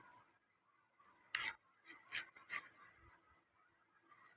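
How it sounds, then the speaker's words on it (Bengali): Food being cut on a boti, a curved Bengali kitchen blade: three quiet, short rasping strokes in quick succession near the middle, faint against a soft room background. "আর আমি কিসে কাটছি সেটাও দেখছো তোমরা, বটিতে কাটছি।"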